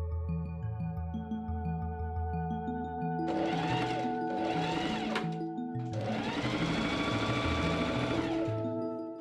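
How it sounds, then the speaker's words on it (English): A sewing machine stitches linen dress ties folded in half with a quarter-inch seam: three close, whirring runs, two short and one longer, over a soft steady background tone. "I fold and machine sew the ties in half with a 1/4 inch seam allowance."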